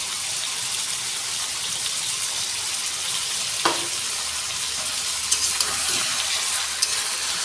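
Chicken coated in spice paste stir-fries in a pan for chicken kosha, a continuous close hiss of sizzling with occasional scraping clacks of a spatula, no voices.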